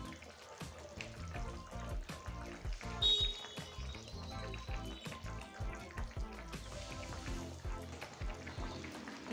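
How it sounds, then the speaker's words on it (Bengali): Chapila fish curry simmers in a pan after the lid is lifted. A soft, irregular bubbling and sizzling goes on throughout, with a brief clink of the lid, and the whole clip is faint. "মাছটা ফুটে উঠেছে, ঢাকনাটা তুলে নিচ্ছি।"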